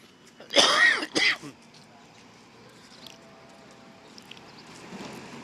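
Two short, harsh coughs close by, one right after the other, then quiet room noise with faint rustling.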